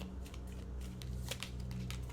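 Tarot cards shuffled by hand during a reading, giving soft, quick riffling bursts that come and go in a quiet room with no one talking.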